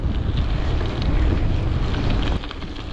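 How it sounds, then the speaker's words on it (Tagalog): Wind buffets the microphone in a loud, constant low roar while mountain biking on the Clutha Gold Trail in New Zealand, with no voices heard. "Takas na hangin guys, sobra."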